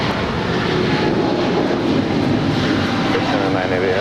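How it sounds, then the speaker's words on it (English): An Air China Boeing 777-300ER, five years old, departs LAX bound for Beijing, its jet engines giving a loud, steady broadband roar that stays constant throughout with no pauses or talk audible. "That is Air China Flight 988 departing to Beijing. It's a 5-year-old 777-300ER."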